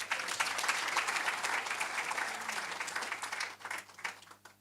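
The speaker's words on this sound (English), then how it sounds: "Doesn't it deserve a round of applause?" An audience at a university faculty research day gives a round of applause, a dense burst of clapping that holds steady and then thins out toward the end.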